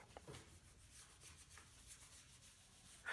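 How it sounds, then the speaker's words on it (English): A cloth rubs artist oil paint into a guitar body, giving a soft, steady, close-up scrubbing and swishing with faint strokes throughout and a louder brush of contact at the very end. "I'll rub it in using a clean cloth."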